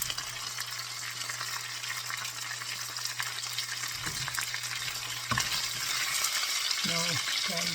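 Chicken pieces for teriyaki chicken fry in hot oil, a steady close crackling sizzle with a low hum and a few clinks of stirring or handling near the end; no talk.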